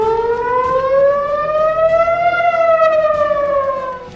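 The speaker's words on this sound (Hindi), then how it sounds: "जिसके बाद पूरे इजराइल में हवाई हमले के सायरन बजने लगे" A wailing air raid siren rises slowly in pitch, holds, then begins to fall, loud and steady with no voices.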